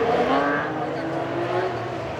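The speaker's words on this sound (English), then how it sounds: "You can probably hear the cars as they're going by." Loud, continuous roar of vintage race cars streaming past at a grand prix, a dense mechanical drone with a noisy crowd-like wash and no pauses.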